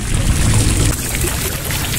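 An outdoor fountain sends a steady, loud rush of splashing, falling water, continuous and close with no break.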